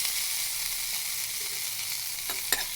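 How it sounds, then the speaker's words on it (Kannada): Tamarind shoots frying in a little oil, a steady broadband sizzle filling the whole clip with a couple of sharp spatter pops near the end, close and alone with no voices. "1 ಕಪ್ಪಷ್ಟು ಹುಣಸೆ ಚಿಗುರು ಎಣ್ಣೆ ಹಾಕಿ ಹುರ್ಕೋತಾ ಇದ್ದೀನಿ."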